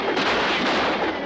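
A gunshot sound effect from The Adventures of Superman television series: a dense, loud, booming burst filling the whole moment, with no voices.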